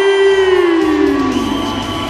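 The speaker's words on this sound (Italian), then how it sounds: "fatemi sentire l'applauso per questi due fighter tutti" A crowd at WFC 3, a 61 kg mixed martial arts title fight, cheers and applauds the two fighters loudly and continuously, while a prominent tone slides downward through the noise.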